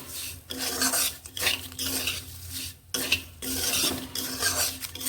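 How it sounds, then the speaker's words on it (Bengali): A spoon scrapes and stirs dry-roasted semolina in a metal pan in rhythmic, close strokes with brief pauses between passes, no voices. "সুজিটা দিয়ে এবার এর সঙ্গে আমি ভালো করে নাড়তে থাকবো"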